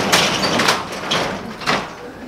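A heavy sliding door is hauled open with broad scraping, rumbling slides in several surges, loud and close.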